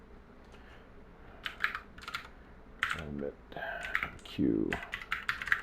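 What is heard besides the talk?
typing on a computer keyboard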